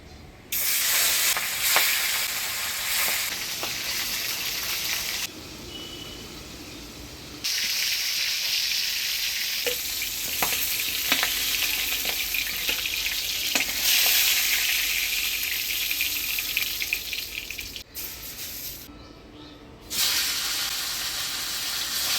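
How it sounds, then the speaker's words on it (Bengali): Turmeric-and-salt-coated fish frying in oil in a pan gives a loud, continuous close sizzle and hiss, pausing briefly a couple of times and then resuming, with occasional stirring clinks and no talk. "মাছটা হলুদ লবণ দিয়ে মাখা নিলাম, এবার ভাজা বসাই দেব।"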